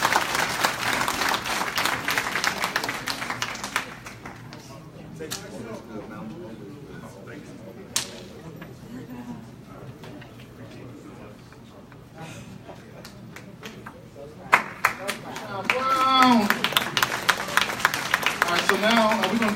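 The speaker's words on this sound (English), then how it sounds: "Let's give him another round of applause." A meeting audience applauds in scattered bursts that fade to quieter stretches with people talking, then the clapping swells again near the end.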